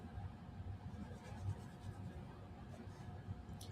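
Soft, steady scratching of a water-soluble graphite pencil moving across paper, close and continuous, with faint low room rumble underneath.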